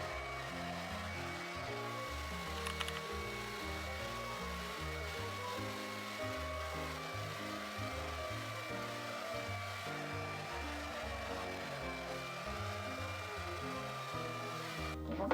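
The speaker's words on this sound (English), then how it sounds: "I'm using my red blow dryer, and this gets really hot, and I'm gonna use it on the highest heat." A red blow dryer on its highest heat roars in a steady, continuous whoosh with a faint high whine, loud and close throughout without talk.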